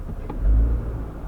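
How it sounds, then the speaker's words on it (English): A Jeep Wrangler JL engine revs briefly from a quick throttle blip, a low rumble swelling and easing back over about a second, close and loud, with no talking. "You hear it actually revved up a little bit like an actual car."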